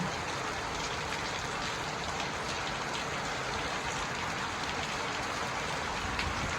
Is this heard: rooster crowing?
no